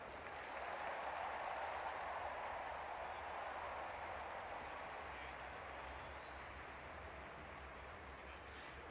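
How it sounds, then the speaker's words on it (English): A large crowd in the London 2012 Olympic Stadium applauds Paralympic athletics throwers. The clapping is a dense, sustained wash heard from a distance, strongest early on and easing slightly, with faint talk underneath. "give them all a massive Paralympic London 2012 Olympic Stadium round of applause"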